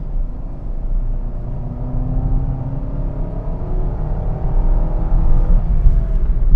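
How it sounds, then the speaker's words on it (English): A 2023 Suzuki Ertiga Hybrid 1.5L GLX automatic is driven at full throttle, its engine drone rising steadily in pitch over a constant road rumble inside the cabin, with no talking. "let me accelerate here a bit. Okay, full throttle."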